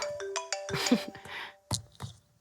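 A phone rings with a short melodic tone pattern, a few clear notes in quick succession, fairly close.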